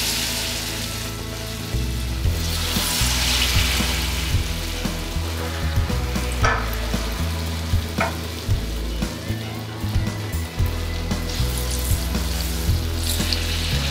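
Baby corn pakodas fry four or five at a time in hot oil, giving a steady, close sizzling hiss with faint bubbling and a few small pops throughout.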